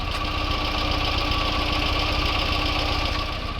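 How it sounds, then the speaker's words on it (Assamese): A 2010 Tata Nano's rear-mounted petrol engine idles with a steady, even hum and faint rhythmic knock, close and continuous throughout. "মই ইঞ্জিনৰ মাতটো দেখাইছোঁ আপোনালোকক এবাৰ।"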